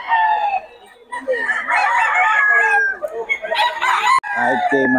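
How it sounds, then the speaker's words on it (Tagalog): Boss Nelson's rooster crows loudly and close, a long harsh call followed by clucking and more fowl calls from other birds nearby, with no talking. "Manok ni Boss Nelson."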